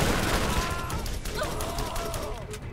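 A repeater pistol in Borderlands fires rapid bursts, a dense and loud stream of overlapping shots with no pause, close and continuous.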